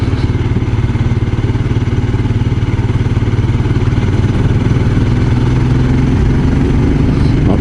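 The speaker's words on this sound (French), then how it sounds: "tu descends trop bas dans les tours, tu fais trembler, tu fais cogner le moteur" Royal Enfield Scram 411 motorcycle engine lugging at low revs, a loud close steady thumping chug with knocking vibration, rising slightly in pitch toward the end as it picks up.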